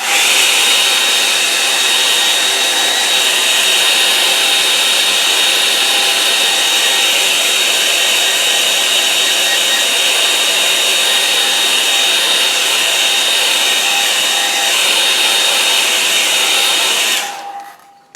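A hair dryer blows steadily on a watercolour painting, a loud, even, close whooshing hum that runs unbroken for about seventeen seconds before switching off.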